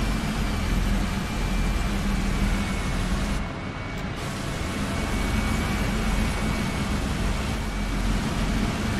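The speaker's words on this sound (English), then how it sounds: "Some interesting new engine sounds." Leclerc tank engine in War Thunder, a steady loud low rumble with mechanical whine, continuous throughout with no speech.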